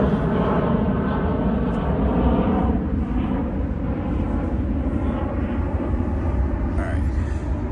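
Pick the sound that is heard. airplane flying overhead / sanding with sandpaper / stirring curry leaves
airplane flying overhead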